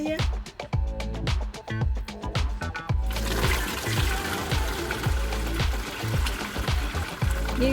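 A gallon of Mai Tai cocktail mix pours into a container with continuous liquid splashing and gurgling, rising in fullness and loudness partway through, without speech.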